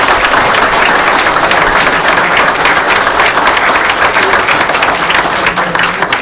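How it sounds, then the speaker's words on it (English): An audience at a fans forum claps for the ground staff, producing loud, dense and sustained applause that carries without a pause from start to finish. "round of applause for the ground team"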